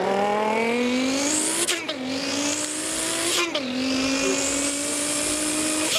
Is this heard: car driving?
yes